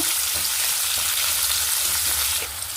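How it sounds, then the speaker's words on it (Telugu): A large onion, thinly sliced, fries in a pan with a loud, continuous hissing sizzle close up, easing slightly at the very end, and no one speaks. "సన్నంగా కట్ చేసుకున్నాను అది మీద పెడుతున్నాను ఫ్రెండ్స్ ఇలా కొంచెం ఫ్రై చేసుకోవాలా"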